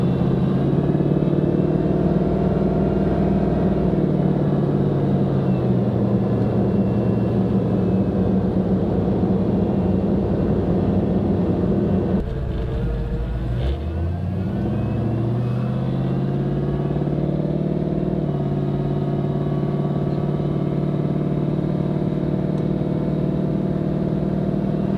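A truck drives up the road on freshly installed gears being broken in, its engine a steady, loud rumble close by that dips briefly midway as it shifts or eases off, then settles back into a continuous drone.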